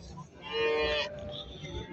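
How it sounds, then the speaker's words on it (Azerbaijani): A cow gives a single loud, close moo lasting about half a second amid the low murmur of a livestock market in Barda. "bak belə bir inək var."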